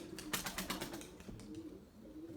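A young pigeon beats its wings in quick flurries, soft rapid flapping close by, strongest at the start and then fading into lighter, quieter flutters.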